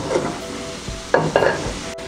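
Translucent onions hiss in a hot pan as a utensil stirs them, with a few quick scraping strokes over the close, continuous sizzle.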